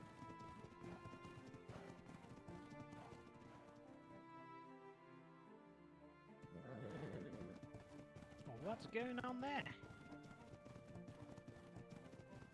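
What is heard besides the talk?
horses' hooves clip-clopping in a video game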